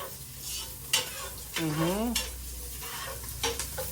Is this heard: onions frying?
yes